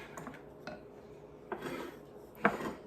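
Trays holding eight meatballs each are set down in a freezer, giving a few light metallic clinks and scrapes spaced across the moment, close and fairly quiet, with no talking.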